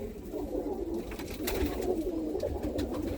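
Birmingham Roller pigeons in a loft, including a recessive red cock, coo softly and continuously over a low ambient rumble, with no one speaking.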